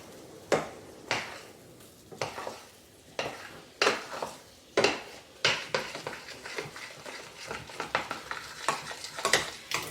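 Butter melting in a pot on a switched-off stove while being stirred for a honey cake, with repeated sharp scrapes and clinks of a utensil against the pot at an irregular rhythm over a soft sizzle, close and without talk.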